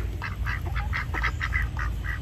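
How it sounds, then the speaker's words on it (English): A mixed flock of farm ducks, including a crossbred bird, quacks in a quick run of about a dozen nasal calls over steady low background rumble, moderately close but fairly quiet. "And then the rest of these guys are just the random ducks."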